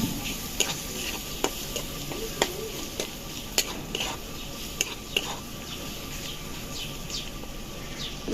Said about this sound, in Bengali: তো মশলাটা আমি একটু ভালো করে ভেজে নিব।